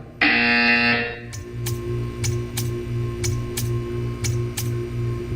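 A harsh, loud electronic buzzer in the Portal 2 video game, set in an art-staring test, blares steadily for about a second. Regular sharp ticks then follow over a low mechanical hum.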